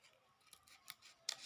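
Scissors cut paper in a few quiet, crisp snips spaced unevenly over a faint background, close up with no talking.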